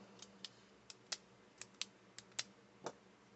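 Retractable planner pens with metal and plastic clips click quietly about ten times, as sharp, faint, close-up ticks at an uneven pace over a near-silent background.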